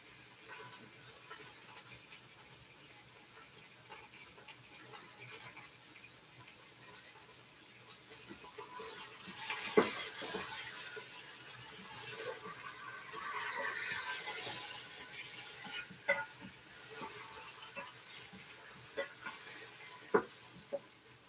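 A lamb roast sears on the bottom of an Instant Pot, giving a low, quiet hiss and soft sizzle that swells midway, with scattered small clicks and knocks from a utensil and no voices.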